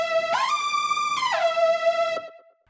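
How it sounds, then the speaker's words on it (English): Two analog synth leads, the Candy and Blood presets from Analog Lab, are layered into one thick, bright tone that slides up, sustains, glides back down and then trails off into silence. "And the layer make this super powerful lead"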